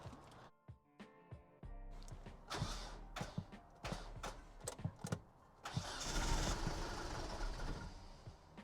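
A Toyota-swapped Ram 50 engine cranks and catches after a fault repair, with clicks and creaks first, then the engine turns over, briefly runs rough and surges, fairly close.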